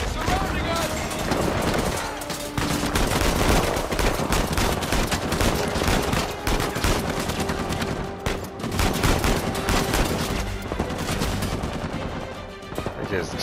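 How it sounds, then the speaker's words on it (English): Heavy gunfire in the Uncharted 4 game, loud sustained bursts and rapid shots layered with explosive cracks over a full soundtrack, continuing nearly unbroken throughout. "They're just shooting, boy."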